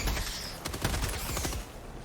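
Automatic fire from a weapon in the video game Helldivers 2, a rapid burst of repeated shots in the middle of the clip over steady low rumble, moderately quiet.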